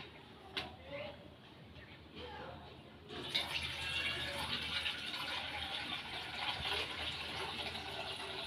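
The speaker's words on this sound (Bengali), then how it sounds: "এবার আমি দুধের প্যাকেটগুলো কেটে দুধটা এই পাত্রে ঢেলে নেব।" Packet milk poured from a cut plastic pouch into a pot, heard as a steady liquid gush that starts abruptly partway through and continues fairly loud, after a quieter stretch of kitchen handling.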